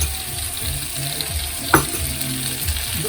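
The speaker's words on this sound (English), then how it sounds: "Right, butter's melting." Butter melting in a pan for mac and cheese gives a soft, steady sizzle that runs throughout, with a single sharp clink of a utensil partway through and faint low kitchen rumble underneath.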